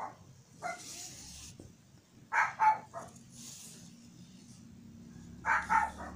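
A dog barks in short clusters of two or three yaps, somewhat distant, separated by pauses over a low background hum.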